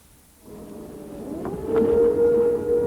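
An air raid siren near the walls of Jerusalem's old city during the 1991 Gulf War, a false alarm, rises and holds a long steady tone, sounding distant and echoing over a low background rumble.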